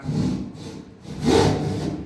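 A hand saw drags in long strokes through a ceiling board, cutting a hole for a downlight; rasping, scraping bursts rise and fall close by with a short pause between strokes.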